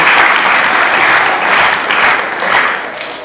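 An audience at Shri Shavarsiddha High School in Achegaon claps loudly and steadily. The applause is sustained and thick, with gentle swells in intensity before it tapers slightly at the end.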